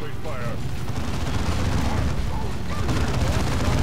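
Gunfire and grenade blasts from a Dawn of War 2 battle against a commander, a dense, continuous rumble of booms and shots with faint voices mixed in.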